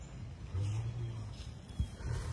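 A liger's low, rumbling grumble, close by and steady, with a few throaty pulses and a brief louder grunt near the end.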